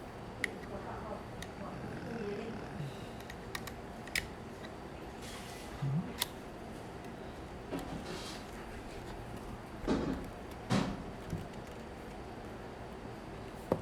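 Zenit TTL Russian film camera being handled as its top is opened: a series of small sharp mechanical clicks and light scraping noises, close and fairly quiet, scattered over several seconds with a voice talking in between.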